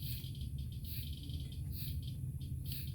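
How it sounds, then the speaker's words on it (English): Summer bugs chirp outdoors in a steady, dense trill, with pulsing high calls layered over a constant low rumble of background noise throughout. "Having bugs chirp in your ear while you're outside."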